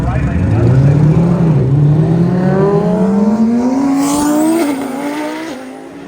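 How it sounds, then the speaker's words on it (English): White Audi roll racing at a drag event, its engine roaring loudly and rising steadily in pitch as it accelerates hard for several seconds, with a commentator talking over the noise before the sound eases off. "the white Audi's going to win this one too"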